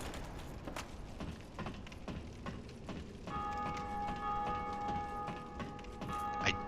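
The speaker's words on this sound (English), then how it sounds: "I don't remember that bell ringing" A bright, sustained bell tone rings out partway through a Dark Souls Remastered game, continuing over a busy background of clicks and game noise, fairly quiet overall.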